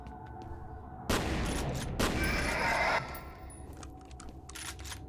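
Gunfire in the F.E.A.R. Perseus Mandate shooter: two loud bursts of rapid automatic shots, each about a second long, break over a quiet humming background, followed by faint clinks.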